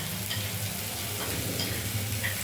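Grated ginger and garlic, onion and green chilli fry together in a pan for fish curry, giving a soft, steady sizzle with light stirring scrapes and no talking.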